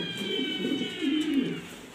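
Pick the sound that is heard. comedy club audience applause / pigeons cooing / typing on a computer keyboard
pigeons cooing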